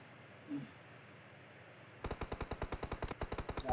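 Gunfire in a mobile battle-royale game scrim: a short distant burst near the start, then after a quiet stretch a rapid, loud automatic volley of evenly spaced shots firing in a steady rhythm.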